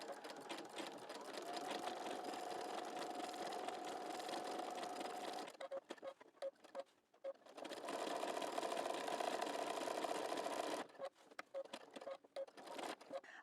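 A sewing machine stitches along the edges of quilt blocks at a narrow 1.5 stitch width, running in two long steady bursts broken by short pauses with small clicks and handling noises in between.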